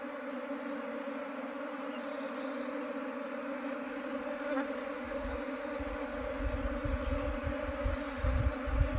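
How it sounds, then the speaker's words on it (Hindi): A honeybee swarm produces a steady, dense buzzing drone throughout, close and continuous, with rustling and handling bumps growing louder toward the end. "मधुमक्खी यहाँ गिर गई दोस्तों,"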